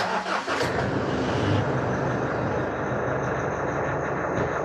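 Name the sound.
car engine starting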